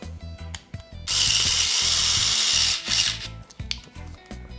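A high-speed Vessel electric screwdriver driving a slightly wonky screw: a loud, close whirring burst that runs for nearly two seconds and then stops, with lighter tool handling and rubbing noises before and after.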